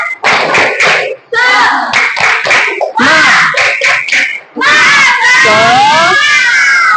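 A classroom of children performs the rhythmic 'tepuk semangat' clap, loud bursts of patterned claps mixed with shouted chanting voices, in short groups separated by brief pauses and ending in a sustained cheer.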